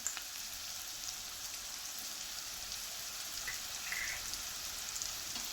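Onion, chopped green chilies and three cloves of cut garlic sauté in a pan, giving a steady, even sizzle and hiss with faint crackles throughout, no voices.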